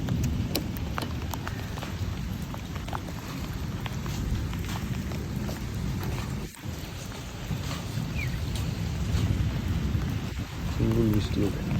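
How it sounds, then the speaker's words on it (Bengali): Heavy rain pours steadily outside, a dense continuous roar with low rumbling that may be thunder, recorded close and loud with no speech. "বাইরে ফুল বৃষ্টি"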